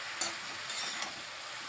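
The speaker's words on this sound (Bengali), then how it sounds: "আমি এখন আরও কিছুক্ষণ সবজিটাকে ভালোভাবে একটু ভেজে নেব।" Winter vegetables frying in a pan while being stirred, a steady close sizzle with a few light scraping knocks of the spoon.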